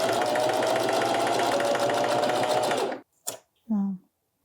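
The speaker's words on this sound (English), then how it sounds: "So I'm gonna just sew this part on, sew it down" A domestic sewing machine stitching a tie top, running in a fast, steady mechanical whir for about three seconds before stopping, followed by brief handling clicks and a short vocal sound.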